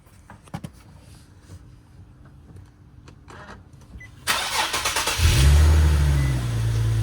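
After a few faint taps, a G37's engine, fitted with a new HKS Hi-Power aftermarket muffler, cranks and bursts to life, then settles into a loud, deep, throaty rumble close by.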